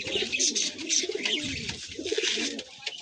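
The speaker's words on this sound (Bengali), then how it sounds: "এক বেগদা কালদুমা পায়রা" Kalduma pigeon, a female of a fancy highflyer breed, cooing at close range in a few throaty rolling phrases, with a sharp twittering edge and short pauses between calls.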